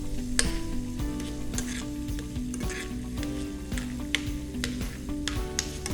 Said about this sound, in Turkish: Tereyağımız iyice eridi ve yanmadı gördüğünüz gibi hızlıca erittiğimiz için